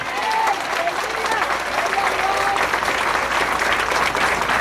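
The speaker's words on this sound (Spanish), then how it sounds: "Un aplauso a ustedes, madres" Mothers at a Mother's Day celebration are applauded in a crowded gathering. The clapping is dense and steady across the whole stretch, with faint voices mixed in.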